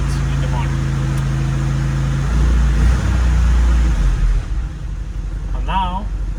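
A Lada Niva engine idles with the choke pulled out while warming up, a steady low rumble that swells briefly before settling, with a voice talking over it near the end.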